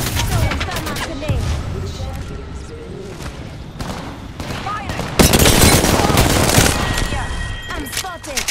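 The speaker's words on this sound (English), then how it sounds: "Firing! I'm spotted. Taking fire." Sustained bursts of gunfire in Apex Legends on World's Edge or Kings Canyon, rapid shots and heavy booms growing louder and denser near the end, with a player's voice talking over the fight.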